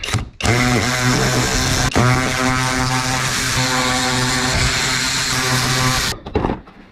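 A power tool removes 7mm screws from the lower airfoil under a Saturn VUE, running with a loud, continuous whirring buzz for about six seconds with a brief break near the start.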